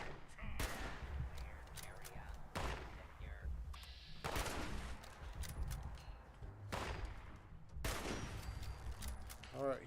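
Gunfire from the Colonel Gutsy robot in the Fallout 76 video game: several loud bursts of shots spread across the stretch, with game noise between them.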